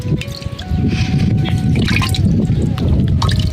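Water trickles and splashes steadily close by, a continuous bubbling flow with a faint tone running through it.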